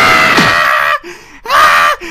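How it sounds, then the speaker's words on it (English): A loud, sustained scream from a gamer starting a Dragon Ball Xenoverse session, two long strained yells separated by a short pause, close to the mic. "Don't cut me off coming in here screaming."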